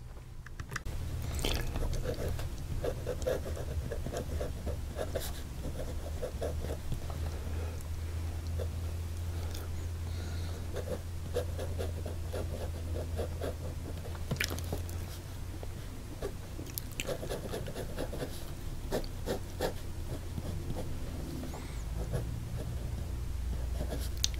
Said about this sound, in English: You can hear that nib on the paper.